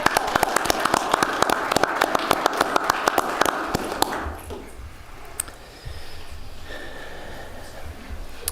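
An audience at a commission meeting gives a burst of dense, close applause lasting about four seconds, then it fades into quiet room noise with a few scattered claps and small sounds.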